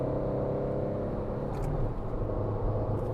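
Tata Altroz hatchback engine drone under load as traction control cuts power and the car bogs down, a steady close rumble with a slight dip and no talk over it.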